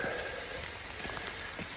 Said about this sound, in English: I think the rain's picking up again